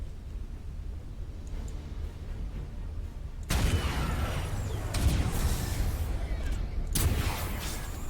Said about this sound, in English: So we've got plenty of torpedoes going out.